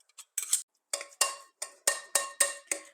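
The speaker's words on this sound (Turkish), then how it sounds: "Kaşıkla devam ediyorum. İyice hepsi harmanlansın istediğim için." A spoon works through garlic potato skordalia in a bowl, about eight sharp clicks and taps against the dish in an uneven rhythm, close and crisp with no voices.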